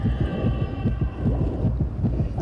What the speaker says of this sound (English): Oh, I love the heartbeat sound.